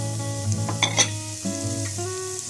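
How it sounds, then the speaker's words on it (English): Celery, carrots, onion and minced garlic sauté in olive oil for a slow cooker pot roast, giving a steady close sizzle with a few brief utensil clinks over a sustained tonal background. "we're just going to let that saute"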